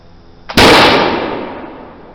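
A single sharp, loud report from a First Pattern Brown Bess flintlock musket fired outdoors, a brief crack preceded by a faint pan flash and followed by a decaying rumble.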